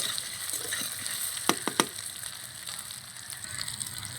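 Chopped gati kochu taro fries in hot oil with a steady hiss and crackle, broken by a few sharp utensil knocks in the middle, close and continuous.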